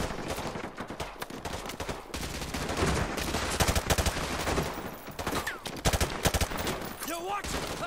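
Rapid automatic gunfire and bursts of shooting in Modern Warfare 2 Remastered, loud and sustained with brief pauses, mixed with game sound effects and occasional voices.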